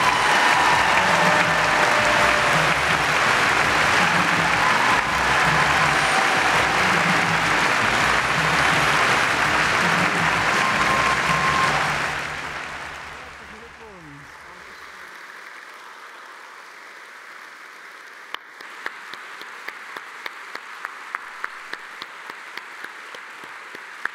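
A large audience at a poetry slam awards show in the Elbphilharmonie gives loud, sustained applause as the honorary award winner takes the stage, then fades to quieter scattered clapping.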